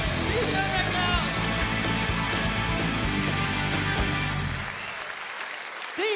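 A comedy gala audience applauds comedian Peter McLeod, a dense, steady wash of clapping that carries on for several seconds before thinning out near the end, with voices mixed in.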